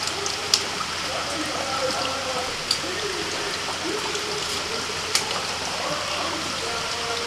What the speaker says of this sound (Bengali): এখন কিন্তু অনেকটা কমে গেছে, এখন একদম ঝিরঝির করে পড়ছে।